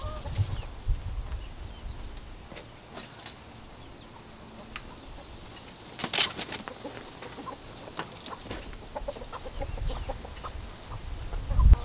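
A rooster clucks faintly in a quiet outdoor setting, with a few short calls and soft rustling.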